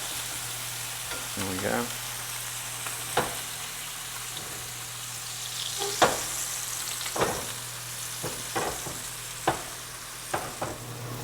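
Trout fillets fry in a hot pan with a steady, close sizzle, broken by several sharp clinks and scrapes of a utensil as the fish is turned, and one brief spoken remark.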